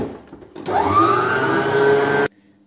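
Electric mixer whirring through lemon cake batter after vanilla sugar goes in, starting abruptly, running as a loud, steady motor whine for under two seconds, then cutting off.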